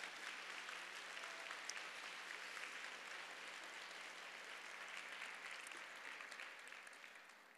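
Steady applause from an audience at a women's charity evening event, a broad, even clatter of many hands heard at a distance and low level, easing off slightly toward the end.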